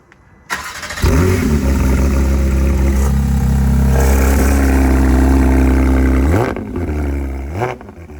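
A BMW M4 with a Valvetronic exhaust fires up from cold with a loud, close bark, settles into a steady high idle, then blips its throttle in a couple of quick revs near the end.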